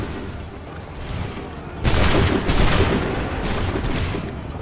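Musket volleys crack out in an Assassin's Creed 3 battle, a heavy burst of overlapping gunfire at about two seconds followed by scattered further shots and booms over continuous battlefield din.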